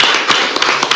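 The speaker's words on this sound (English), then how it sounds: "Let's give them applause." An audience claps at an El Centro city council meeting: a close, loud, dense patter of many hands clapping at once, with a few sharper claps standing out.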